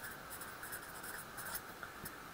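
Pen or marker scratching out notes during a lecture on phases of matter, soft continuous strokes with brief taps, faint and close.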